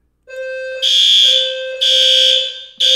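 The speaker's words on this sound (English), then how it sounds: "That's the fire alarm." A building fire alarm blares loudly and close, sounding a steady electronic tone broken into repeating bursts with short gaps between them.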